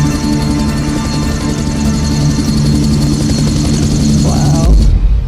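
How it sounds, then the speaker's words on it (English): A helicopter's rotor chops loudly and continuously with a low engine drone, in Pink Floyd's Another Brick in the Wall, ending in a sudden deep thud as the sound cuts out. "Helicopters back."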